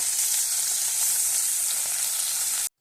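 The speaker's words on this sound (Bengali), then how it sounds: "মাছগুলো আমার ভাজা হয়ে গেছে" Large bata fish pieces fry in a wok, giving a loud, continuous close-up sizzle that cuts off abruptly at the end.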